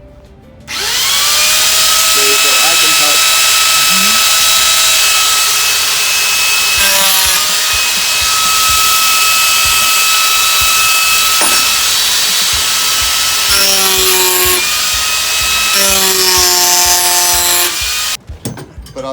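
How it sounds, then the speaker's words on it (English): A spring-loaded reciprocating carving tool working wood, a loud sustained buzzing rasp with whining tonal overtones that shift as the blade bites, running almost continuously before cutting off near the end. "these reciprocating tools, they're spring-loaded"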